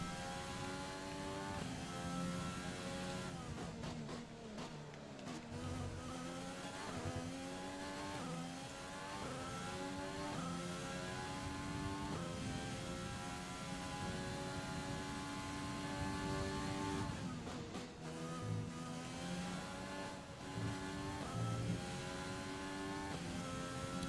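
A Formula 1 car engine in the F1 2020 video game revs high and steady, the pitch climbing through gears and dropping on shifts, loud and continuous with no voices.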